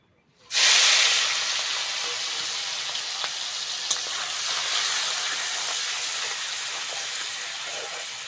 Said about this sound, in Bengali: তেলের মধ্যে লবণ হলুদ মাখানো চিংড়িটা দিয়ে দেবো